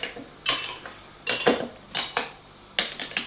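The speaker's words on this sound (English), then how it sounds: "Then you're going to get yourself a little spoon and stir them up." A small spoon stirs a peach Bellini cocktail in a glass, giving a few quick clinking bursts of metal against glass, close and separated by short pauses.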